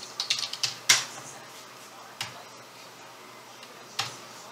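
Clicks from a computer keyboard: a fast cluster of keystrokes for a search shortcut, then a few isolated taps spaced well apart. They are close, crisp and fairly loud against a soft room hiss.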